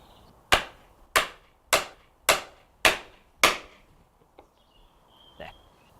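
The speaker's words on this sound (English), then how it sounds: "Then we use a key and a hammer." A hammer strikes a key to fix the poppets on a wooden pole lathe, landing six sharp, evenly spaced blows, each followed by a short ringing decay. A faint tap and a brief squeak come after.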